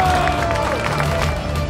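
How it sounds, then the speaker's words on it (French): Crowd applause at a vintage car show, honoring the volunteers: a sustained, dense wash of many hands clapping with some cheering and murmuring voices underneath. "je vous demande de faire un tonnerre d'applaudissements"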